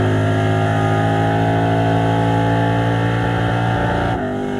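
A Camaro drag car engine sits bouncing on its rev limiter at full throttle, a loud, close, sustained high-pitched drone with dense harmonics, then drops abruptly in pitch near the end as the throttle closes.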